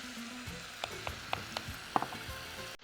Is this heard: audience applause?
no